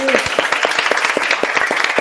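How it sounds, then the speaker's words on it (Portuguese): A round of applause breaks out at a real estate brokers' meeting, with brisk, fairly close clapping in quick irregular bursts over a short stretch. "Salva de palmas para todo mundo aqui."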